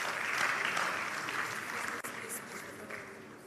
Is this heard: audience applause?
yes